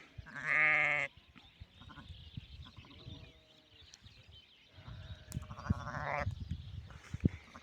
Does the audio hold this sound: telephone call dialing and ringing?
no